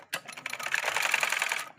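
A sewing machine runs in one short continuous burst of rapid, even stitching chatter, close up and alone.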